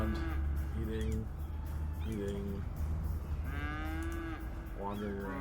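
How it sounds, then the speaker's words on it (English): Cattle mooing in the Cities: Skylines city-building game, several drawn-out moos in a row with short gaps between them, fairly loud over a low steady background hum. "you get the cows wandering around, eating"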